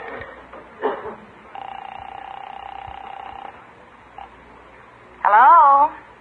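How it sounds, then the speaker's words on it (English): A telephone dialed as a sound effect in a 1950s radio comedy, with a short clatter, then a long steady tone and a brief warbling ring near the end. Voices are faint in the background. "I better phone Irene and tell her what's cooking."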